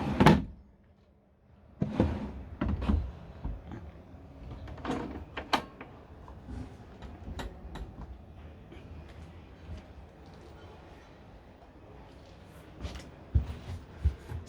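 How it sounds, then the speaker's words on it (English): Several motorhome cabinet drawers and doors slide and thump shut in quick succession, with a few sharp central-locking latch clicks and quiet pauses between. "So, central locking for the drawers."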